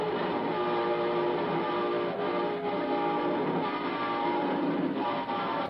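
A train passing, a dense, continuous rumble and rattle of rail cars rolling by steadily at moderate volume for several seconds.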